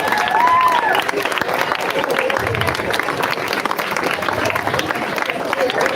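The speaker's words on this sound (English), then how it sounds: "Let's all get up and give a big applause." Audience at a college speech competition event gives a standing ovation, steady dense clapping filling the hall throughout, with a brief voice tone near the start and crowd murmur underneath.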